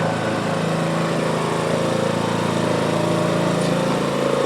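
A John Deere D105 lawn tractor engine running at a steady, loud drone with a constant buzzy mechanical hum close by, no voices.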